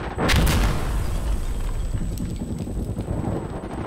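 A frag grenade exploding in the video game Insurgency Sandstorm: one loud, close blast that fades into a long, crackling rumble of falling debris.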